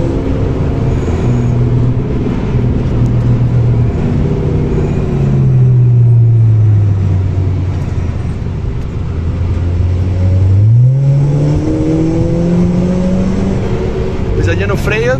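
A Volkswagen Scirocco laps the Nürburgring and its engine drones loudly from inside the cabin. The revs drop, then climb again as it accelerates, and a voice talks over the engine throughout.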